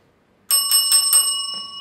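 Rapid series of about four bright metallic bicycle bell rings, close and clear with a fading ring-out, plus a faint knock near the end; no talk.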